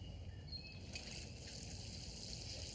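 Water poured from a container onto the soil around a newly planted garden plant, a soft steady trickle and splash under faint outdoor ambience with a distant bird.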